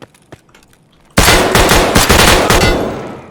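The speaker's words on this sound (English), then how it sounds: "He just shot faster than me." Pistol gunfire in Escape from Tarkov rings out as a loud, rapid string of close shots after a quieter lead-in with a few scattered distant pops.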